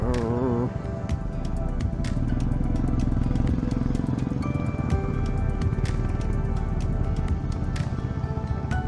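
A Honda H'ness CB350 motorcycle rides up to a parking spot on a hill road, its engine droning loud and close with a steady, even rumble throughout.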